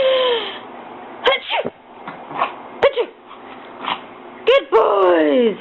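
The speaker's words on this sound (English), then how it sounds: "Can you sneeze bigger?" A dog sneezes several times in sharp, abrupt bursts spread across a few seconds, with whimpers and soft vocal noises between them while a person speaks to it nearby.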